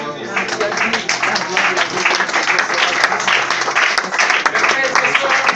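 A church congregation applauds for the Lord Jesus Christ during a pastor's sermon, producing loud, steady, dense clapping that fills the room for several seconds, with crowd voices mixed in.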